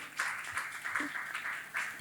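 An audience applauds in an elegant hall at the Académie des Beaux-Arts, steady mid-distance clapping from a crowd, sustained throughout.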